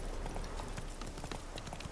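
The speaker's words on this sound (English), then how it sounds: "Spooking my horse." A horse in The Witcher 3, spooked by ghosts, trots with a rapid, uneven clip-clop of hooves, moderately close and without speech.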